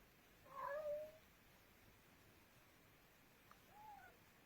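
A pet cat meows twice in a quiet room, a longer, louder call followed after a pause by a softer, shorter one.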